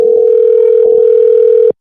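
A steady telephone dial tone holds alone and loud for almost two seconds while a call is being placed, then cuts off abruptly.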